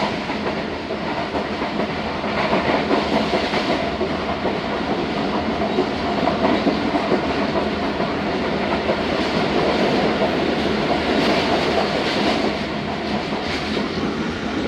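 Express passenger train 47Up Rehman Baba running at about 100 km/h toward Multan, a steady loud rumble with rhythmic clickety-clack of wheels over rail joints, heard from onboard and continuing unbroken throughout.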